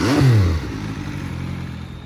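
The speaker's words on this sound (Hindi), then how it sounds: "ये थी आवाज़ MV अगस्ता की on this SC project exhaust." An MV Agusta F3 RC with an SC Project exhaust gives a short, loud rev that quickly drops in pitch, then settles into a steady idle burble.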